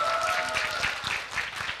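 A studio audience claps for an actor during a talk show, a sustained, even patter of applause from many people that fills the whole moment without speech.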